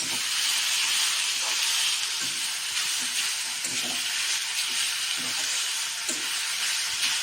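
Coconut and jaggery frying in a pan, a steady broad hiss and sizzle running throughout with faint scattered crackles, close and continuous with no voices.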